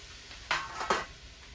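Onions dropped into heated avocado oil in a pan, giving two short, close sizzling bursts about half a second apart over a quiet kitchen background.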